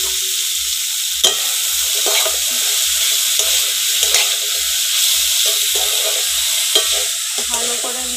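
Beetroot and carrot fry in a pan with a loud, continuous sizzle while a spatula stirs in a steady rhythm of repeated scraping strokes, close up and without talk.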